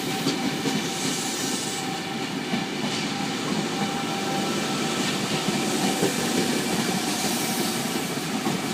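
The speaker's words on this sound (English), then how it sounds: "here's V33 now departing off platform number 5" NSW TrainLink V set, double-deck intercity train in TrainLink livery, departing a station platform on a rainy day, with a steady rumble, rail hiss and faint clickety-clack throughout.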